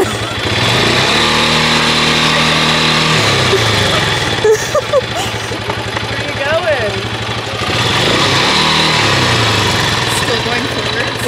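A quad bike engine runs loudly and close, holding a steady idle drone with a couple of revs rising and falling, while people talk and laugh over it.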